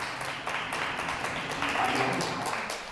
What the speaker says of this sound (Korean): 우리 박수로 하나님 앞에 영광 올려드리겠습니다